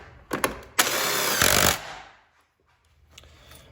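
An engine mount bolt on a Fiat 500 Abarth is tightened with a power tool, a few sharp clicks followed by a loud close burst of whirring about a second long, then near quiet.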